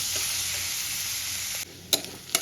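Crushed garlic and green chilli fry with onions in a pan, a steady close hiss of sizzling oil that drops in level partway through, followed by a couple of sharp stirring clinks.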